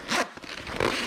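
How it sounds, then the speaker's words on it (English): A zip is drawn around a padded pushchair foot muff on an Ickle Bubba Discovery Max pushchair, making two close, raspy zipping strokes with a brief pause between them. "zip this round"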